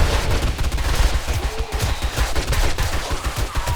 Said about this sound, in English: I just have to get used to the explosion.